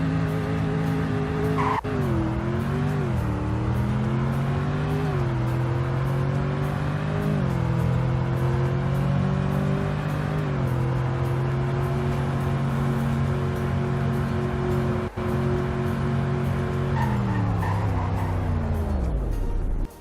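A Ford F-150 in the Roblox game Greenville runs a 0 to 100 acceleration and braking test, a loud engine climbing through several gear shifts in rising and dropping pitch, then winding down with tire squeal as it brakes, no talking.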